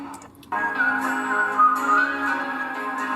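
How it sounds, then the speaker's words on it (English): An audience's sustained, tuneful whistle carries a melody over a busy background, loud and continuous after a brief quieter start. "Well, the whistling's good."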